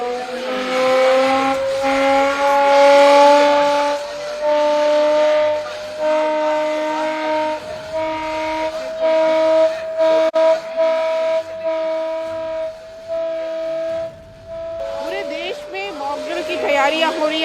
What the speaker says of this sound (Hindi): इस तरह से सायरन बजाया जा रहा है।